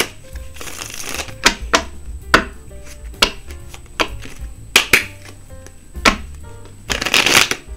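Rebel Oracle tarot cards being shuffled, a series of sharp riffling bursts and taps in an irregular rhythm, close and clear, ending with a longer flurry of shuffling.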